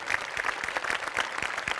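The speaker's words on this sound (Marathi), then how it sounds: "जोरदार टाळ्या" Loud audience applause from a Marathi comedy show crowd, a dense, steady wash of clapping across the whole stretch with no talk over it.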